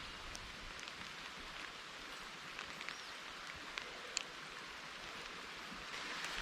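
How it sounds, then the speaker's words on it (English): Steady hard rain falls through misty forest on the slopes of a Costa Rica volcano, among trees with bromeliads and Spanish moss: a dense, even hiss throughout, with a few sharper drips near the end. "It's raining."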